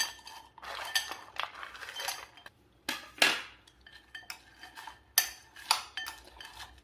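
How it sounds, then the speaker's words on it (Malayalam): A spoon stirs dried mango with chili powder in a metal bowl while making pickle, giving a run of scraping, clinking strokes that come close and fairly clear with short pauses between them. "ഇത് നന്നായിട്ട് ഈ എല്ലാ മാങ്ങായാലും വരത്തക്ക രീതിയിൽ ഇതൊന്ന് ഇളക്കിയെടുക്കണം"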